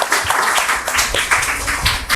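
Studio audience at a KBC-style general-knowledge quiz claps loudly for a schoolgirl contestant, a brisk, close burst of overlapping handclaps that runs the whole moment.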